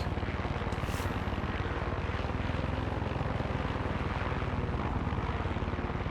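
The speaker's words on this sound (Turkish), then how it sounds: "helikopterimizle istediğimiz yere gidebiliyoruz" A helicopter in the video game Far Cry 6 flies with a loud, unbroken rotor drone and engine roar that stays level throughout, with no talk.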